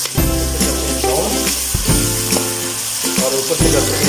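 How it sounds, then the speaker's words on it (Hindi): Crushed onions, two of them, frying in hot oil for a kebab korma, a steady close sizzle with stirring scrapes running throughout, busy with a low underlying hum and background music-like tones. "अभी डालते हैं प्याज। प्याज को हमने क्रश कर लिया था, 2 अदद प्याज क्रश के लिए, तो ये डाल देते हैं।"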